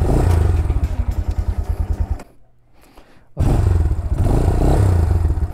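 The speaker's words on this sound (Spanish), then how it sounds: "Vamos a encenderla." An Italika Black Bird motorcycle's engine roars at close range, cuts out briefly and then fires back up, its low rapid pulsing idle loud throughout, with no talk.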